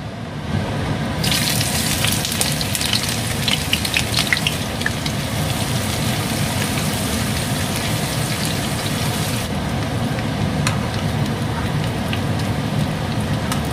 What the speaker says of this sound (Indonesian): Panasin minyak dulu ya buat goreng bawang putih, bawang merah.